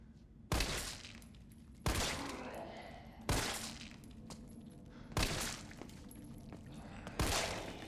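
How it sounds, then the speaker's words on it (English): Gunfire in the video game Resident Evil 3 Remake: five loud, heavy shots spaced roughly evenly about a second and a half apart, each followed by a decaying rumble and debris-like tail. "That's a lot of damn bullets."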